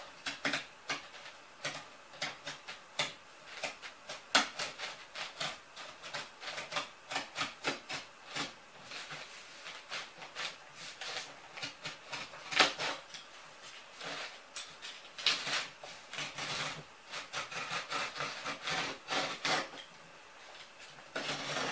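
A utility blade drawn through cardboard, with dense scraping and ticking cuts repeating steadily throughout, fairly close, under a background of building work noise.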